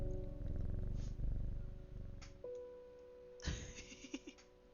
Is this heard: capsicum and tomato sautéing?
no